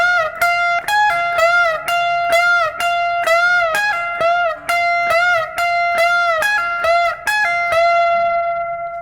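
A distorted electric guitar plays a guitar solo lick slowly, with clear sustained notes, bends and pull-offs in a steady, deliberate sequence, alone and close.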